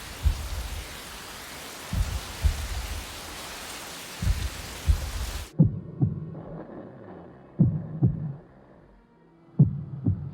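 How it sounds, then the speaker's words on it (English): Godzilla's heartbeat in the 1998 monster movie thumps in deep, paired beats under rain-like hiss, then continues more sparsely and quietly with longer gaps as it slows toward stopping. "Matthew Broderick watches Godzilla die by listening to his heartbeat slowly stop"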